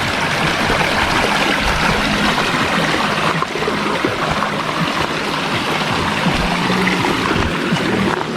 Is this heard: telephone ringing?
no